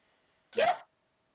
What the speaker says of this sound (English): There was a demon hiccup.